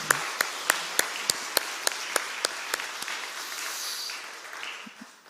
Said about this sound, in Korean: 여러분 박수로 한번 격려합시다